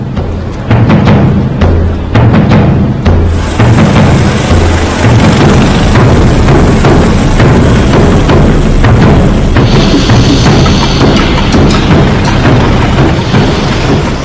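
A pilot helicopter at the port of Rotterdam roars loudly and continuously with a dense, rumbling rotor and engine noise, steady throughout at close range.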